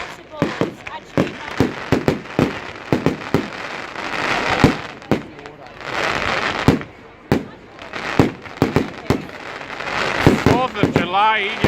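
Bonfire Night fireworks in Corby, England, burst in a dense string of loud bangs and crackling volleys, some rushing and fizzing between reports, with whistles near the end and voices talking amid the display.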